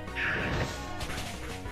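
A Slash attack sound effect from the Pokémon Uranium video game: a single loud, crashing swipe bursts in early and then rings on with a sustained noisy tail.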